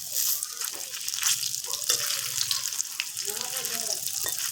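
Soybean koftas fry in hot oil in a pan, giving a constant crackling sizzle with occasional soft bubbling pops, close by and moderately loud, with no voices.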